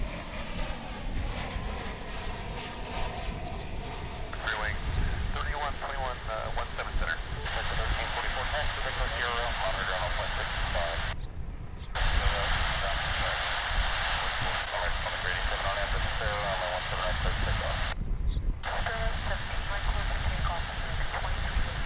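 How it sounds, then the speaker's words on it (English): An American Airlines Boeing 737-800 lands at DFW International Airport, heard from a distance as a sustained broad jet roar that swells and holds, with speech over it. "That was American Flight 2792 coming in from San Antonio in Texas, a 737-800."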